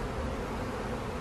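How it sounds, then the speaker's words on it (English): Honeybees buzz around an open hive in a soft, steady hum that lasts only a moment. "Sometimes when I have all these bees buzzing around"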